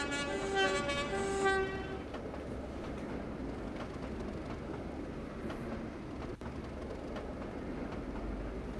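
A train whistle in the Trainz railway simulator game on the Ducken Railway route sounds in two short tonal blasts, then gives way to a steady rumble of the moving train.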